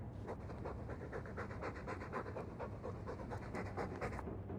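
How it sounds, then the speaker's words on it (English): A dog pants rapidly and steadily in a stuffy room in the game Dragon Age II, a quick continuous rhythm of breathy huffs at low, even volume with no other sound. "All that noisy dog breath, day in, day out."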